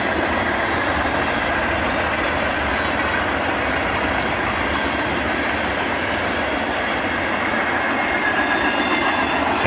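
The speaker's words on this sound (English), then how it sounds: "A southbound manifest blasts through the snow." Southbound manifest freight train passing through snow, a loud, steady, close rumble and roar of rolling wagons with a faint rhythmic clatter that holds constant throughout, with no voices.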